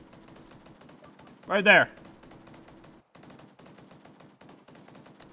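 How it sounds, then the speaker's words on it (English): A short, loud burst of gunfire from the video game Cerberus Company cuts through the middle, standing out above ongoing voice chat and background game noise. A player speaks briefly. "We're taking fire."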